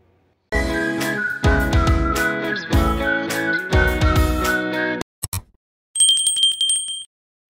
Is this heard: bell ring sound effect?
yes